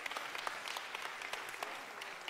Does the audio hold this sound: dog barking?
no